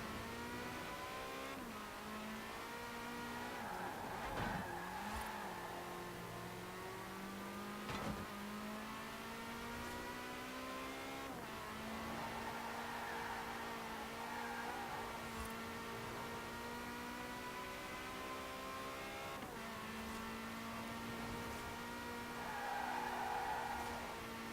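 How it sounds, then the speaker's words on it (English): A car drifting in Forza Horizon 4: a sustained engine drone rising and falling through gear changes, with tires squealing and skidding in long slides and brief sharp knocks, heard alone and fairly faint throughout. "Not very good at drifting this car."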